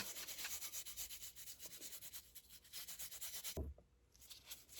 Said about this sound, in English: So I'm just going to keep burnishing this down.